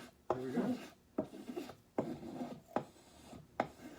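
A freshly sharpened spokeshave planes wood, taking super fine shavings in five evenly spaced strokes, each starting with a sharp bite followed by a soft scraping rasp, close up and moderately quiet.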